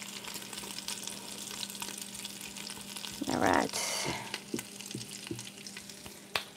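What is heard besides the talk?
food sizzling in a frying pan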